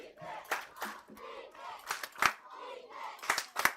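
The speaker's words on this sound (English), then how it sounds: "Hickman County's crowd livelier and livelier with every" Home crowd at a high school football home opener shouting and roaring in repeated surges, loud and close, rising and falling in waves.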